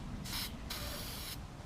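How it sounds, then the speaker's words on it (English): Two short bursts of copper spray hiss from an aerosol can during a Toyota/Lexus 3UR-FE engine repair, one brief and one longer, close and steady, with quiet pauses between. "I'm going to use a little bit copper spray to spray right here"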